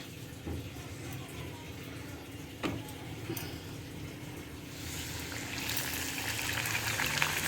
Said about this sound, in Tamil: பூரி போட்டுக்கலாம் எண்ணெய் காஞ்சிட்ருக்குது